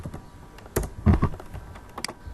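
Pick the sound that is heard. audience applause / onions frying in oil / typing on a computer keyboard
typing on a computer keyboard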